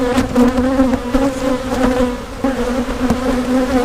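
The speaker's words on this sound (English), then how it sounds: "There's plenty of bees to keep it warm, I'd say." Dense, steady buzzing of many honeybees swarming close around a hive, a continuous droning hum with small fluctuations and no voices.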